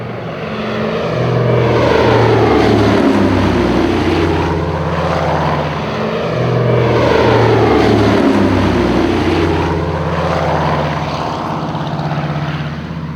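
A WW2-era Catalina flying boat passes low overhead, its twin propeller engines producing a loud, sustained droning roar that swells and throbs with pulsing beats, with no voices.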